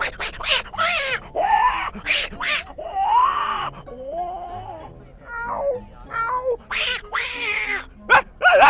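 A mimicry artist voices a cat and a dog confronting each other: rising, wailing meows and yowls trade off with gruff growls and short bark-like bursts, close and loud, in quick back-and-forth exchanges.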